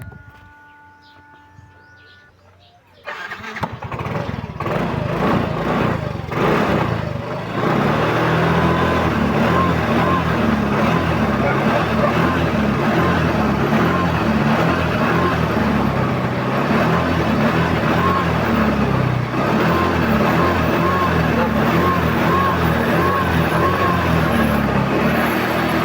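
A Yamaha Mio i 125 scooter engine starts after a few seconds of quiet, then idles steadily and loudly close by with a constant mechanical hum through the rest of the clip, no talking.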